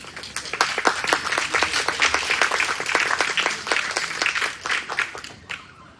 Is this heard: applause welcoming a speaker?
yes